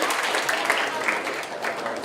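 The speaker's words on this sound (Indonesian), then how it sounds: "Tepuk tangan dong buat kalian semua" Students clapping in a classroom, a brief burst of scattered applause at moderate volume, mixed with light voices.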